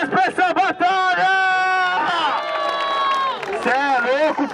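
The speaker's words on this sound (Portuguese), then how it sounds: "Palmas pra essa batalha!" A crowd at a freestyle rap battle semifinal in Barueri, São Paulo, cheers and shouts loudly, with sustained voices whooping over scattered applause.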